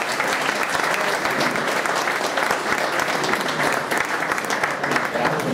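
Sustained applause from a large crowd at a music union conference, a dense, even clapping that continues steadily throughout.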